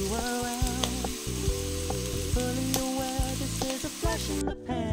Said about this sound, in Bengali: সবজিগুলো ফ্রাই হচ্ছে